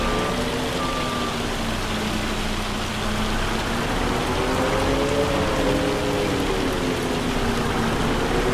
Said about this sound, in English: It's like it's pea-sized hail, or so it seems